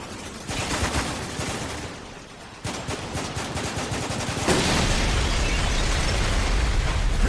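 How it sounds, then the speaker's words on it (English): Heavy gunfire in Spec Ops: The Line: loud rapid bursts of automatic fire crackle close by, then give way to a dense, sustained roar of shooting and explosions. "Hey, we're taking heavy fire!"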